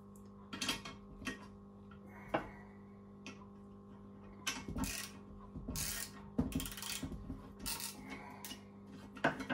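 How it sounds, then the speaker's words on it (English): Ratchet wrench clicking while loosening the upper intake manifold bolts on a Mitsubishi Galant VR4, irregular bursts of metallic ticks and clanks over a quiet workshop hum, close and moderately loud. "And this should unbolt the top manifold, upper part of the manifold."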